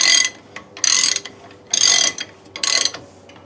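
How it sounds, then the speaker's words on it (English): A large ratchet being cranked on a truck hub assembly during a hub replacement on a 1997 Dodge Ram, with four loud bursts of rapid clicking separated by short pauses, close up. "this is such a lot bigger ratchet"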